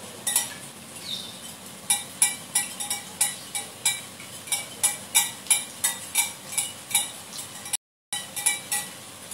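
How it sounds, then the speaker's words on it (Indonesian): Eggs and milk being beaten in a bowl, a steady rhythm of quick clinking whisk or fork strokes against the side, close and fairly loud, with a brief gap near the end. "Nah, ini kita kocok lepas telur sama susu, tambahin kejunya."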